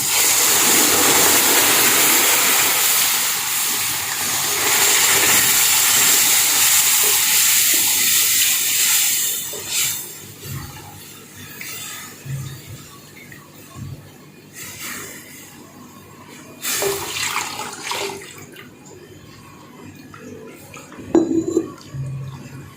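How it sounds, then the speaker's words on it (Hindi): A loud sizzling hiss as water is poured into hot semolina in a pan for halwa, easing after several seconds into quieter bubbling and occasional clinks of a utensil. "अब हम इसमें डालेंगे पानी।"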